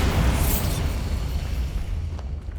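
A Bombarda explosion spell from Hogwarts Legacy roars as a sustained, heavy blast with a dense low rumble, loud at the start and slowly thinning out over a couple of seconds.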